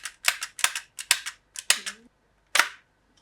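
Sharp plastic clicks and clacks from a resin 3D-printed RE-45 pistol model from Apex Legends, about seven crisp snaps in an uneven rhythm with short pauses, close and clear, with no talking.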